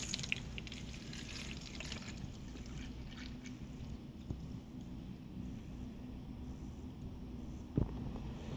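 Distilled water pours into the tank of a Rowenta Compact Steam Station DG7530, a faint, steady trickle and gurgle with a few soft drips, close by and quiet throughout.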